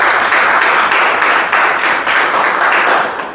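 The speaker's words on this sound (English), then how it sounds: "Please give her one more round of applause." An audience at a speech meeting breaks into dense, loud, sustained applause, many hands clapping steadily for a few seconds with no talk over it.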